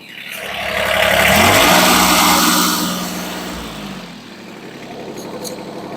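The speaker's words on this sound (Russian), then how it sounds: "при нажатии на педаль акселератора моментально раскручивается мотор" A Japanese mini tractor's engine revs up quickly and loudly when the accelerator is pressed, climbing to a strong roar, then easing back toward a steadier idle close by.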